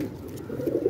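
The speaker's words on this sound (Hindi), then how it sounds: "मुलायम कबूतर हैं जी" Pet pigeons at a home breeder's loft give a soft, low cooing close by, a brief murmuring burble with no talk.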